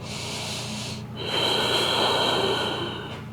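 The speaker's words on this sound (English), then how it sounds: "Breathing." Close breathing during a slow vinyasa yoga practice: a quiet exhale, a brief pause, then a louder, breathy inhale or exhale with a slight wheezy, nasal edge, heard alone.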